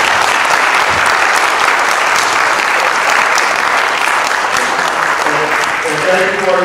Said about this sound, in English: And thank you for your applause.